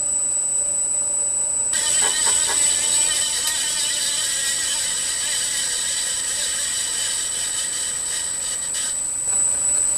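A variable frequency drive fan and a milling machine spindle head run together, giving a steady high whine over a faint mechanical hum, with some brief rattling in the middle.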